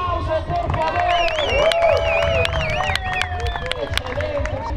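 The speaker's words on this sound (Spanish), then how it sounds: "Vamos a ver, un aplauso por favor." A crowd at a BMX and trial bike show claps and cheers, with sharp scattered claps over a busy babble of voices and a tonal, whistle-like sound weaving through the noise.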